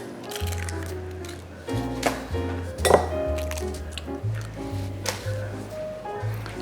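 Raw egg is whipped up in a bowl for an egg wash in a home kitchen, giving soft squishy beating with a few sharp clinks of utensil against the bowl over a low background hum.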